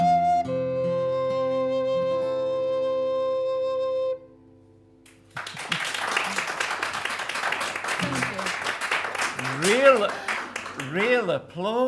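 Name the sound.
audience applause at a folk festival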